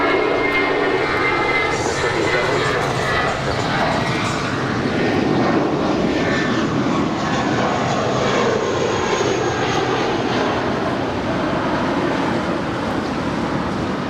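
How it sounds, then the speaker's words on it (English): A JetBlue Airbus A320 departs LAX bound for Los Cabos, its engines giving a steady, loud, broad roar that holds at an even level throughout, with no voices. "departing to Los Cabos with JetBlue 1463. It's an Airbus A320"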